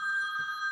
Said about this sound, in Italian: il cellulare suona sempre quando non devo, ovviamente